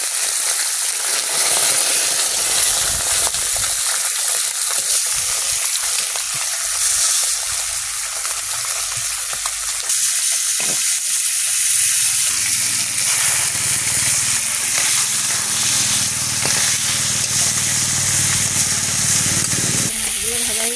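Fish seasoned with salt, turmeric and chilli powder frying in hot oil in a kadai, giving a loud, continuous sizzle and hiss that shifts as the pieces settle and are stirred.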